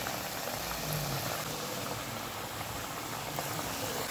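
Murukku dough frying in hot oil gives a steady, dense bubbling sizzle. The hiss stays even and close throughout, with no talk over it.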